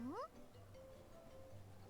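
A cat merchant in the game Visions of Mana gives one short rising meow at the very start, then only a quiet low hum remains.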